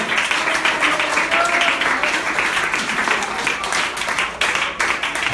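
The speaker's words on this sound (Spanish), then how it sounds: "Den un aplauso al Señor." Congregation applauding during a church Sunday school service, a continuous crowd of clapping that swells and dips, with voices mixed into the din.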